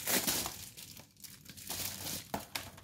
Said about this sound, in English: I'm using these kitchen scissors to open them up.